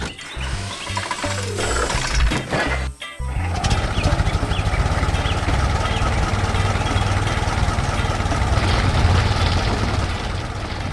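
A loud, steady animated tractor engine rumble with rattling, clanking parts, working a field, broken by a brief dip near the start before running on continuously.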